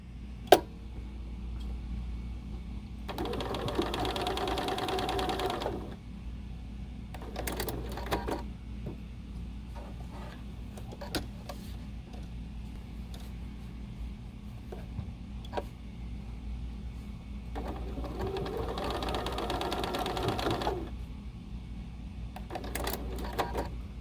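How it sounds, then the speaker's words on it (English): A sewing machine stitches elastic onto a fabric face mask in two short bursts of rapid mechanical whirring, with quiet clicks and handling noises in between. "I'm going to take this to my sewing machine and just secure the elastic with some loose"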